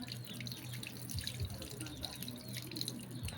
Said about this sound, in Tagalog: Guys, bubuhasan na natin yung tubig.